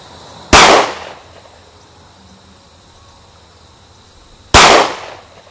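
Two loud, sharp FN-S rifle gunshots ring out about four seconds apart at an outdoor shooting range, each cracking close and decaying quickly into a quiet background with insect chirping.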